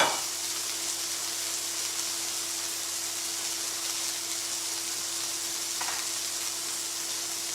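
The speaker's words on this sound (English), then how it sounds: "So you can hear the sizzling there" Steady, bright sizzling of chicken frying in a hot pan, a constant crackling hiss with a faint hum beneath, no talking.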